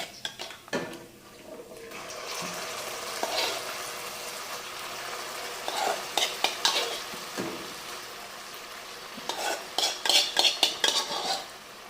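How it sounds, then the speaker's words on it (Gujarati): Urad dal tempered in garlic chutney and oil, sizzling in a pot while a metal spoon stirs, giving clusters of sharp scraping clinks against the pan over a steady frying hiss, close and without talking. "આવી રીતે આપણે દાળ છે એનો ખાલી લસણની ચટણીની અંદર જ વઘાર કર્યો છે"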